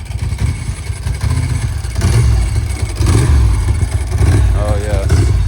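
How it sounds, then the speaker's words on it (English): A Ducati motorcycle engine runs steadily at an outdoor classic car and bike breakfast meet, a loud, continuous low rumble with crowd noise and voices around it. "it definitely sounds like a Ducati"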